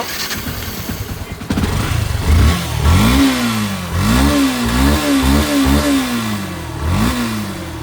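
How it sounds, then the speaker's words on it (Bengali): A Yamaha FZS version 3 motorbike, which had a faulty fuel pump, cranks briefly and then fires up close by, followed by a series of rising and falling revs with short pauses between them. "বাইকটা কিন্তু এখন স্টার্ট দিব"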